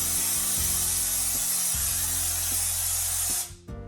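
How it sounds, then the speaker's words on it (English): A steady, loud hiss of wall texture being sprayed over a drywall patch runs almost continuously under a low mechanical hum, then drops away abruptly near the end. "you're just gonna kind of spray through the area"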